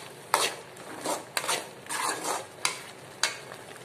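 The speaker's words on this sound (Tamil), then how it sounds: "நம்ம அரைச்சு வச்சிருக்கிற தேங்காய் விழுதையும் இதோட சேர்த்து நல்லா வதக்கிக்கோங்க" Coconut paste masala is sautéed in a pan, with a soft sizzle under repeated scraping strokes of a spoon against the metal, about six stirs in a few seconds, close and with no talk.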